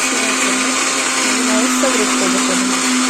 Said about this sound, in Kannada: ಅದನ್ನು ಎರಡನ್ನೂ ಮಿಕ್ಸಿಗೆ ಹಾಕ್ತೀನಿ